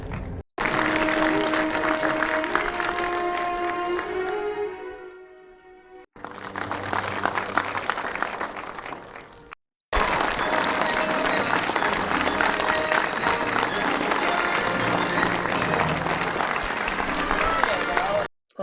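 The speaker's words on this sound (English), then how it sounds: "that last section was the clapping at the very end of the movie" A cinema audience applauds at the end of a Star Wars: The Force Awakens screening: loud, dense, sustained clapping fills the room, dipping briefly before swelling again into a long, steady wash of applause.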